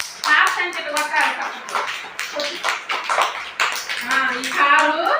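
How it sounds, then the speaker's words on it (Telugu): Small children at an anganwadi clap hands in quick, uneven rhythmic bursts throughout, close and fairly loud, with an adult voice and children's chatter running over the clapping. "క్లాప్స్ అంటే కొట్టాలి"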